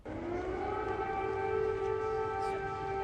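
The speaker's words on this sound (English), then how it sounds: "Air raid sirens ringing out as the president walked alongside President Zelensky." An air raid siren in Ukraine wails steadily, a sustained rising-and-holding tone sounding from a distance over low background noise.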